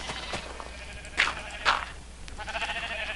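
Bleating sheep from the Minecraft video game, penned livestock in a farm build, with two prominent mid-loud bleats near each other and fainter bleating afterward, no talk.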